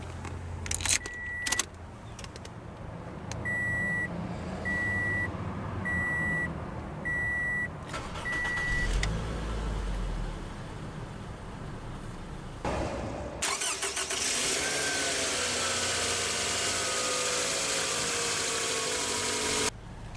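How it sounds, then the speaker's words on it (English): A 2015 Scion xB, the compact Toyota sub-brand wagon, cranks over with chiming warning tones beforehand, then catches and settles into a steady, close idle that runs unbroken to the end. "let's go ahead and start the engine"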